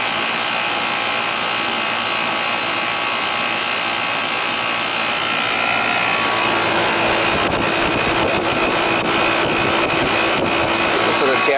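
A Carrier heat pump unit running noisily while being charged with refrigerant, a loud steady mechanical drone with fan and compressor hum that grows slightly rougher partway through, with nobody talking.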